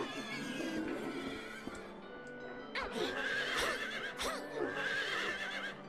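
Repeated whinnies from horses in the game Silent Hill 3, shrill wavering neighs clustered in the second half over a dense background of snorts and rumbling.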